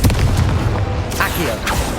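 The Confringo blasting spell goes off in Hogwarts Legacy with a loud, low boom and crackling bursts layered over a rumbling background, quickly followed by further impact pops.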